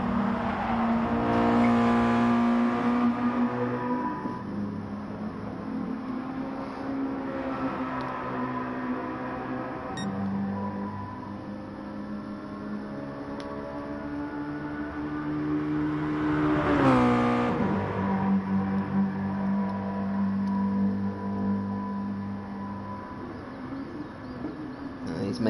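Mazda Roadster race cars in GT Sport running through a chicane, engines droning in steady tones that dip and climb as they brake and accelerate, with a sharp revving surge partway through, loud and close with no talk.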